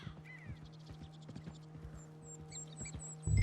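Horse hooves clip-clop steadily in the video game Red Dead Redemption 2, a regular walking rhythm of sharp knocks over a low ambient hum, with a heavier thud near the end.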